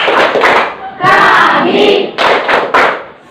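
Students in a high-school classroom perform a rhythmic clapping chant for entrepreneurship, with bursts of claps in patterned groups alternating with loud chanted group voices.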